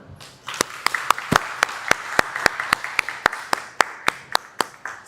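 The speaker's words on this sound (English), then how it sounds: "Let's have a big round of applause for all of them." An audience at a design session in the Design Barn at Srishti Manipal Institute of Art, Design and Technology breaks into applause, with sharp, distinct claps ringing out over a steady crowd wash for several seconds.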